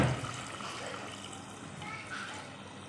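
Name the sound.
water being poured into chicken and potato curry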